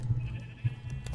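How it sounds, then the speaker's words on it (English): Sheep bleat in the Minecraft video game, two short nasal bleats a half-second apart over a soft game background, no talking. "oh, sheep! Let's grab our sheep."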